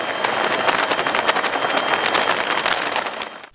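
Sri Lanka Air Force Bell 412 helicopter on a flood rescue, a steady, loud rotor and engine roar with rapid blade chop held throughout, fading slightly at the end.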